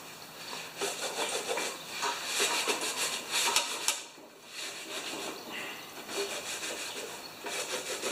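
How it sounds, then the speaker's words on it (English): A worn Yard Machines lawn mower has its surface scratched and scuffed with steady, rasping back-and-forth strokes, close and moderately loud, with a brief pause near the middle before the rubbing resumes. "Now, first, I'm going to scratch this up."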